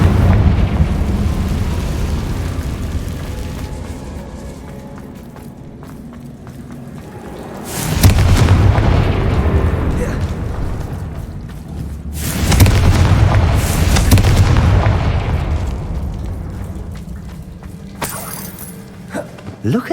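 In the Hogwarts Legacy video game, the Confringo blasting spell sets off two loud booming explosions that roar and rumble for several seconds each, above a steady mechanical rumble of game sound.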